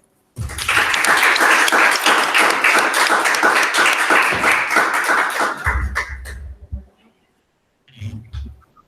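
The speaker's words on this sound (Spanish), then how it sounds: "démosle un fuerte aplauso a Eric Stengler" Audience applause after a science-week lecture on robots, dense clapping from a crowd that swells at once, holds steady for about six seconds, then thins and fades, with a brief spatter of late claps after a pause.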